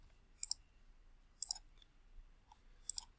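Three short bursts of keyboard clicks, about a second apart, from someone typing an equation into a graphing tool. Each burst is crisp and fairly quiet over low room hiss.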